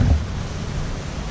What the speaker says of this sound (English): The waves are getting a little bit bigger now